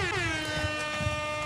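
An air horn blares in one steady, sustained blast at a lawn bowls state men's fours final at Campbelltown, a loud harmonic tone gliding slightly down before holding level for the full length, with no talking over it.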